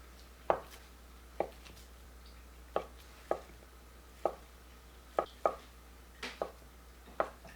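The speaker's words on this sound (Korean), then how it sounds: "파를 잘게 자릅니다. 스팸을 다져주세요." A kitchen knife chopping scallions and mincing Spam on a cutting board, about a dozen sharp close knocks at an uneven pace over a low steady hum, no voices.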